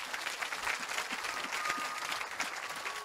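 A church congregation applauds in acclamation of Jesus during a deliverance service, dense steady clapping from many hands at moderate distance.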